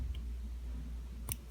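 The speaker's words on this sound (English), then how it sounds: "give it a little tug, and snip it off" Scissors give a single quick snip to cut embroidery thread, a faint close click near the end over low background hum.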